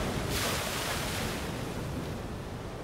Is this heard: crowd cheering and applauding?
no